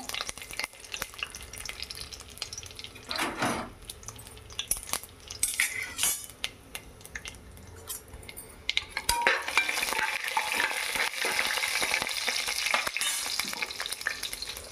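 Whole biryani spices and bay leaves crackle in ghee, a dense sizzle under frequent scraping and clinking of a metal spoon against the pot, growing louder and more continuous toward the end.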